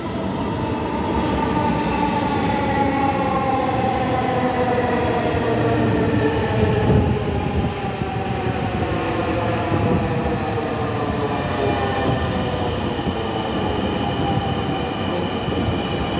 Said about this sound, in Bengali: আর এই পাশ দিয়ে উত্তরগামী ট্রেন।